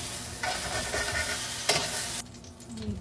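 Eggplant slices sizzle in a pan while a utensil stirs them, giving a close frying hiss with a scraping clatter midway before the sizzle drops back.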